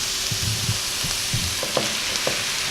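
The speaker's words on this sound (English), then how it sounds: "So the next thing I'm gonna add is my tomatoes." Chopped tomato cubes go into a pan of browned onions with ginger-garlic paste for a beef wet fry, setting off a steady, close frying sizzle with a few soft stirring clatters, no talk.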